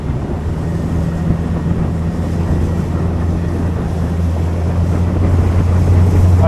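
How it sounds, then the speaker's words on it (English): A Tracker Grizzly 1754 SC boat runs on the water behind a 75 hp Mercury four-stroke outboard during break-in, giving a loud, steady low engine drone with wind buffeting the microphone and water rushing past. "I just trimmed the motor up a little bit."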